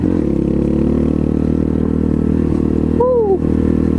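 Apollo 250cc dirt bike riding over rocks, its engine droning loud and steady close by with rattling over rough ground, and a short whoop of a voice near the end.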